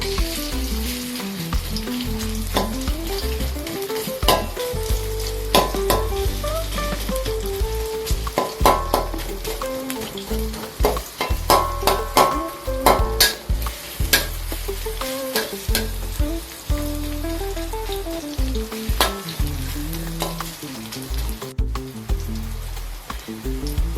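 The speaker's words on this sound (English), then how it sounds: "Fry the bawang besar." Onions (bawang besar) frying in a pan for a stir fry of daun kucai with egg, a loud, continuous crackling sizzle with frequent stirring scrapes and clinks throughout.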